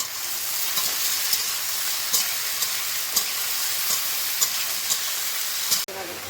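Salted taro stems hit a pan of hot oil and set up a steady, loud sizzle and hiss that runs throughout, with faint stirring clicks and an abrupt clatter near the end, and no talking.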